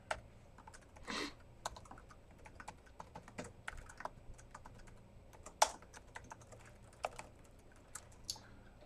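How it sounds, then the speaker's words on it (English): Computer keyboard typing during a live coding stream: irregular bursts of close, crisp key clicks with short pauses and an occasional louder clack, heard alone without talk. "Nope, this keyboard is killing me."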